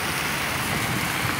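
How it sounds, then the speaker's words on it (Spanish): Heavy rain falling over the city of Cali, a steady, dense hiss with a low rumble underneath, unbroken and moderately loud throughout the short stretch. "En este domingo con mucha lluvia acá en la ciudad de Cali"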